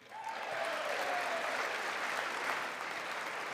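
Audience applause at a State of the Union address, a steady wash of clapping from a large room, heard from a distance and fairly faint, continuing evenly for several seconds.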